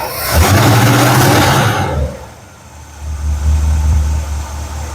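A car engine has its carburetor idle mixture screws adjusted, giving a loud, rough idle that drops back, then settles into a steady, lower hum.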